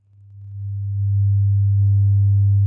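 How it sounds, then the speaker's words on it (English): A pure 100 Hz sine test tone swells up from silence over the first second, then holds steady and loud, with faint harmonics appearing near the end. "let's simulate it by listening to our 100 hertz tone"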